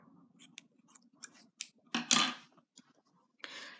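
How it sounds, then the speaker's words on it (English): Scissors snipping crochet wool thread up close, a few quiet clicks followed by one louder sharp cut and a soft rustle, alone in a quiet room. "cut enough thread so you can sew it in"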